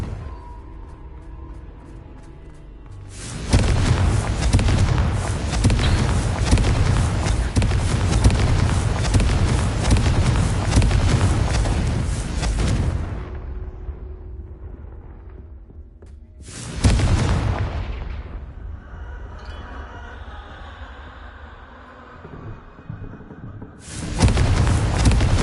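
Blasts from the Confringo spell in a Harry Potter video game come as three loud, broad bursts, the first long and rumbling, each trailing off into a quieter tail.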